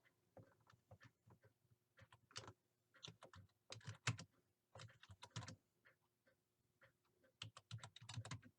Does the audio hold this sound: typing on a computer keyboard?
yes